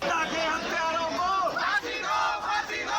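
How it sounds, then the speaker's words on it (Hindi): Crowd of lawyers protesting outside Saket court in Delhi, many voices shouting and chanting together in a loud, continuous, rising and falling clamor. "वकीलों की भीड़ ने श्रद्धा की हत्या के आरोपी आफताब को फांसी देने की मांग की।"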